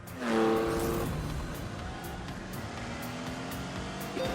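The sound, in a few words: Lamborghini Countach V12 engine in The Grand Tour Game video game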